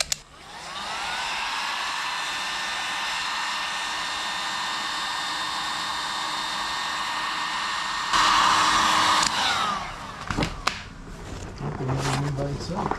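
A heat gun or hair dryer blows steadily on a dented car panel, a loud even whine and rushing air that holds for several seconds, then cuts off, followed by handling clatter and brief talk.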